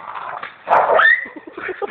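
A German Shepherd puppy lets out a single sharp, yelping bark close by, rising into a brief whine, between quieter stretches.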